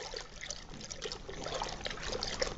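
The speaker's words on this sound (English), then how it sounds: "So now we're going to punch down the cap." Foam cap on fermenting Concord grape wine being punched down and stirred, giving a steady wet trickling and sloshing with dense bubbly fizz, close and continuous, no voices.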